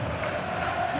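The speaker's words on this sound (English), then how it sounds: "The crowd certainly think so. Just listen to that noise." Stadium crowd in a simulated Real Betis vs Real Madrid La Liga match in the FC 26 football video game gives a steady, broad roar at moderate level, with no commentary over it.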